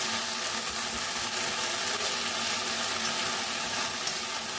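Drumstick greens with onion and garlic frying in a pan, a dense, constant close sizzle with faint stirring scrapes throughout, loud and unbroken.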